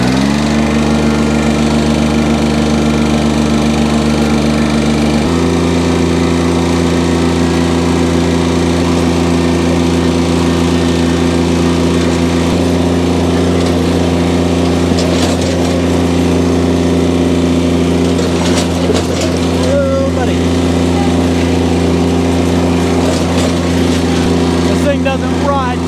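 A four-wheeler ATV engine, with a noise in the front end, runs steadily while being ridden, a close, continuous buzzing drone that shifts pitch slightly, with someone talking over it.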